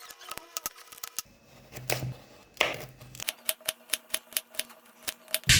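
A knife dices peeled carrots on a cutting board, a fast run of sharp, close taps in an uneven rhythm with a few short pauses.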